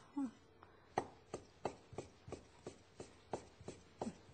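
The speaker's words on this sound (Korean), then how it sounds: "좀 얇게요. 네, 이렇게 썰어줍니다" Kitchen knife thinly slicing vegetables on a cutting board, about a dozen crisp evenly spaced taps in a steady rhythm, close and fairly quiet, without talk.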